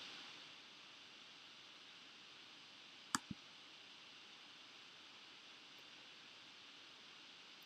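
A single sharp mouse click on a Save button, with a second fainter click right after, standing alone against a quiet hiss of room noise.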